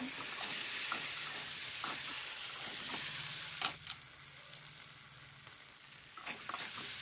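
Fried potatoes being stirred into a spice masala in a pan, with a continuous close sizzle broken by several sharp spoon scrapes and clinks against the pan, and no talking.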